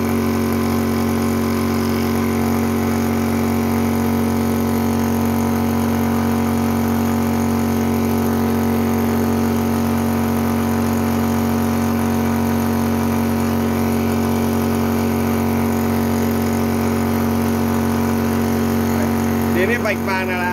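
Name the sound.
Xin Yong Shi PCP high-pressure air pump running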